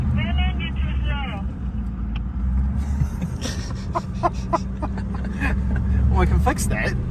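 V8 engine of a four-wheel drive vehicle driving on sand along the Canning Stock Route, a steady low drone running throughout beneath people talking in the cabin.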